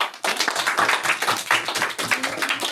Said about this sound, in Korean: 다음 우리 박수